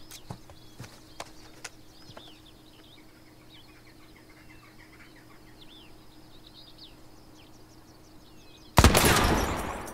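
A single loud gunshot in The Quarry video game cracks out near the end, after several seconds of quiet outdoor ambience with chirping birds and a few faint clicks.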